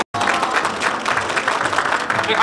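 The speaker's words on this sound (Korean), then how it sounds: "박수 한번 부탁드립니다" An audience at an expo claps loudly and steadily right after a brief silence, with dense applause filling the room and faint crowd voices underneath.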